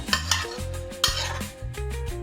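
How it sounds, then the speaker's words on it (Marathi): Sautéed vegetables being stirred into a wheat flour and semolina batter produce repeated close, wet mixing strokes with utensil scrapes and light clinks against the bowl, rhythmic and fairly loud, with no voices. "आता त्या आपण याच्यामध्ये मिक्स करून घ्यायच्या."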